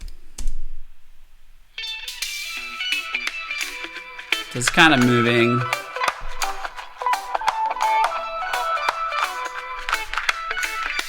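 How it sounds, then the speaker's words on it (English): Lo-fi, radio-like filtered drums and a guitar riff in a reggae song production, processed with the Sound Toys Filter Freak plugin, play with thin, band-limited tone and a brief burst of fuller sound midway, with a voice talking briefly over it. "it kind of gives it this lo-fi radio thing"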